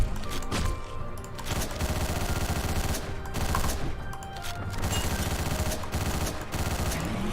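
Rapid bursts of gunfire from the Hotline Miami video game, loud and dense with repeated volleys and short gaps, filling the whole stretch without speech.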